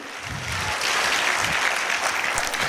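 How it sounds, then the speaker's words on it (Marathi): Loud, sustained applause from an audience at a community cultural program in Pimpri Chinchwad, with dense clapping that swells in the first second and holds steady to the end. "म्हणून नारी शक्ती करता जोरदार टाळ्या झाल्या पाहिजे"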